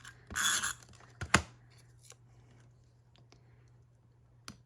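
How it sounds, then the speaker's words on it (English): Double-sided adhesive tape is pulled and pressed down while preparing a scrapbook album, giving a short ripping tear followed by scattered soft clicks and scratches, close and quiet against a faint steady hum. "I hope the double-sided tape or this tape works"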